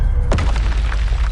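Bombarda explosion spell in a Harry Potter video game: a single deep, punchy boom with a sharp attack, followed by a rumbling decay that fills the rest of the short moment.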